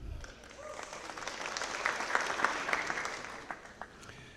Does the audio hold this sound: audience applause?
yes